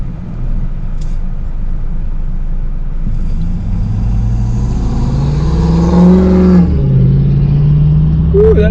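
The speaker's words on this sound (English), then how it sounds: "That Dodge was noisy." A noisy Dodge drives past on a street by a shopping center, its rumbling engine swelling louder as it nears and then fading, heard from inside another car.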